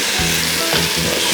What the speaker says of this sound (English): I'm going to add some wine to it.